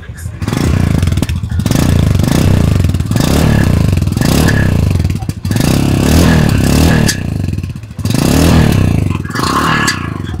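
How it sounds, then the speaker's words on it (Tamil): A Royal Enfield Scram 440 motorcycle's new engine runs loud and close, its exhaust rising and falling through repeated revs with brief dips between bursts. "இப்போ இந்த புது இன்ஜினோட எக்ஸாஸ்ட் நோட் எப்படி இருக்கு அப்படிங்கிறத பார்க்கலாம்"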